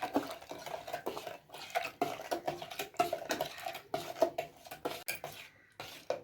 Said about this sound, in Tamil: நம்ம தேவையான சர்க்கரை போட்டுக்கலாம். நல்லா இது மிக்ஸ் பண்ணி விடலாம்.